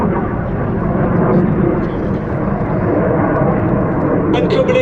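Red Arrows Hawk T2 jets flying a smoke-trailing airshow display, a loud continuous roar of jet engines filling the air with steady broadband rumble and no break throughout.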